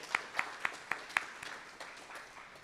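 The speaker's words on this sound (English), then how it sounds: "Let's give them a round of applause." A small audience at a university storytelling event claps for storytellers, a few distinct sharp claps in an even rhythm that soon thin into faint scattered clapping.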